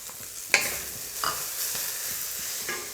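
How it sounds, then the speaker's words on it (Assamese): Boiled potatoes tumble into a hot pan with fresh green chillies for bread pakoda filling, a brief clatter followed by steady frying sizzle and a few scraping stirs, close and alone with no talking. "এতিয়া মই বইল কৰা আলুকেইটা দি দিছোঁ।"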